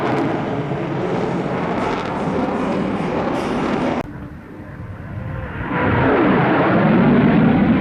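An early jet aircraft engine roars loudly and steadily, briefly dropping in intensity midway before the heavy rushing swells back up.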